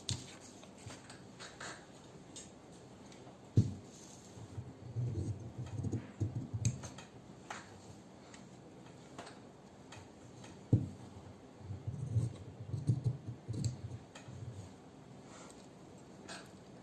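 Scissors cut cloth for a choli with quiet, crisp snipping clicks that come in short irregular bursts, each set opening with a sharper snap, close by in an otherwise hushed room.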